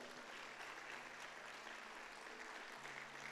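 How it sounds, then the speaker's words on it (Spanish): Steady applause from a church congregation during a Spanish-language prayer service, a continuous dense patter of clapping heard at moderate distance without a break. "Dale un aplauso a Jesucristo."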